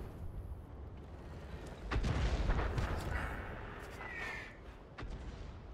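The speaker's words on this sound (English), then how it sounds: "Luckily, the enemy artillery appears to be less effective than ours is." World of Tanks artillery fire booms out in a single heavy blast that rolls into a rumbling tail, followed by fainter distant cracks, fairly quiet overall with no talk.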